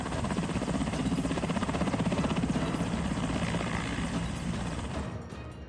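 A helicopter carrying backup troops thunders steadily with a loud, rapid rotor chop, holding close and strong before easing slightly at the end, with no talking.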